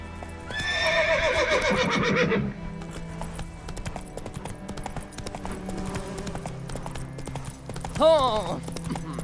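Roach the horse in The Witcher video game gives a loud, shaky whinny at the start, followed by steady hoof clip-clop. A second short neigh comes near the end, and a voice speaks over parts of it.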